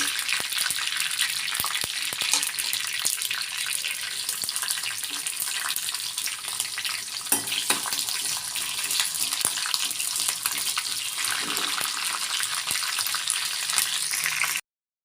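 Green chillies sizzle as they fry in a pan with chicken, giving a steady, dense crackling hiss that runs evenly throughout, close and fairly loud, with occasional clinks of stirring and no talk.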